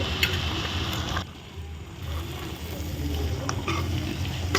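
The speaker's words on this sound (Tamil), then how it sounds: "நல்லா வதக்கிடுவோம்." Chicken pieces sauté in a pan for a village-style country chicken curry, giving a steady close sizzle with faint stirring noise and a short quieter dip partway through.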